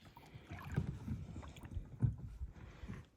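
Paddles dip and pull through the water as a small boat moves along the shore of Haida Gwaii, soft splashes and gurgles at an irregular stroke rhythm, faint and close, with light wind.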